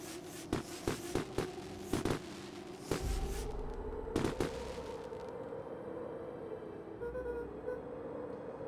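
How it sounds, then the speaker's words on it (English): Fireworks going off in a video game, a series of sharp pops and booms that come quickly at first, then a couple of louder bursts, set against a steady background hum. "Oh, the fireworks are shooting out."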